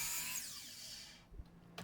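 A power tool cuts through an old cedar board with a close, loud whine that starts high and drops in pitch as it winds down, followed by a couple of short knocks.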